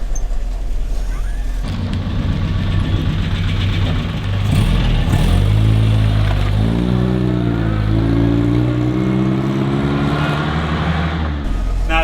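Series 1 Land Rover engine running as the vintage vehicle pulls away, a loud low rumble that rises in pitch, drops at a gear change, then climbs again under acceleration.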